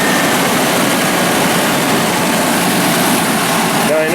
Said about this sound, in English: I'm going to go ahead and start this engine